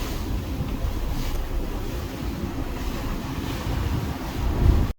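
Sea waves and wind buffet a barge boat heading toward Camiguin island in the Philippines, a steady broadband rush of surf and wind noise that holds loud and even for the full stretch, with no voices.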